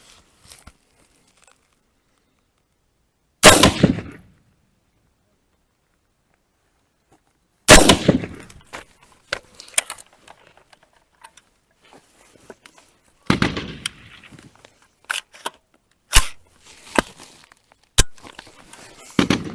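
Sharp, loud gunshots from a Colt M5 assault rifle ring out alone, first single reports with long gaps, then quicker irregular shots and short bursts toward the end.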